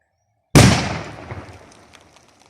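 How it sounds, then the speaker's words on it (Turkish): Black powder detonates in a garden, set off with a battery: after a brief silence a single loud, sharp blast erupts, then its boom decays and rumbles away over about two seconds, with no voices. "Baya güzel patladı yine."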